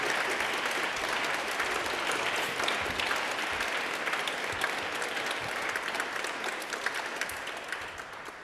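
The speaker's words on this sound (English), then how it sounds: "A round of applause again, please" Audience at an awards event applauding after a poem, a full, even roar of many hands clapping that carries on without pause and tapers slightly at the end.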